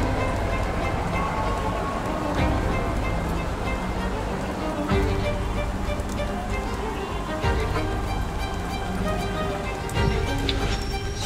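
A train rumbles and rattles continuously, heard from a car parked aboard it in Switzerland, with low rolling noise and occasional clanks and squeaks of the carriages.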